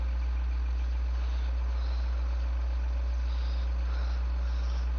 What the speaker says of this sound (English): is she gonna have a good engine sound?